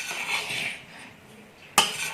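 A spoon stirs ground clove powder into a homemade dry health-drink mix in a container, making soft scraping and clinking of metal against the vessel, ending in a sharp clink, near and without speech.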